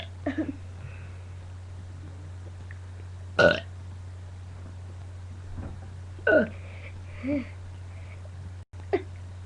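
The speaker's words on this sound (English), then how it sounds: "I'm about to burp you a lot of burps." A girl burps again and again, a few loud, isolated belches with shorter softer ones between them, close up over a steady low hum.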